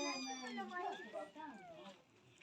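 Cat in Meghalaya giving a drawn-out, wavering meow close by, followed by a second rising and falling meow, fairly quiet.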